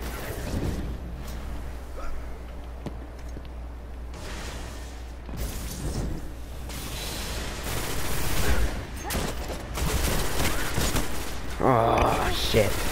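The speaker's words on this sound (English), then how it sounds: "This hand cannon is so garbage." Gunfire from a hand cannon in the video game Destiny cracks out in repeated shots amid busy game action, with a player talking over the top throughout.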